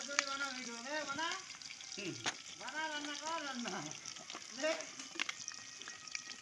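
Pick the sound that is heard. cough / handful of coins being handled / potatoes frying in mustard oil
potatoes frying in mustard oil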